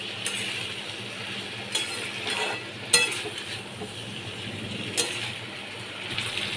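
Spices and ingredients, including Kashmiri chili powder, being stirred in a cooking pan, with faint sizzling and occasional clinks of a spoon against the pan, quiet and close with no talk.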